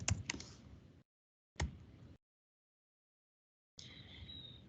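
Quick clicking keystrokes on a computer keyboard come in three short, close bursts separated by dead silence, like someone typing a search term, with no voices.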